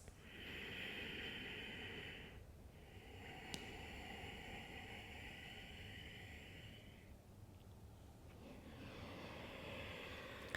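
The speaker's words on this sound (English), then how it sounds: "Victorious breath is an audible breathing technique. The sound coming from the back of your throat." Ujjayi yoga breathing drawn from the back of the throat, a soft, even, ocean-like rush that comes in long, slow cycles with brief pauses between breaths, quiet and close with no talking.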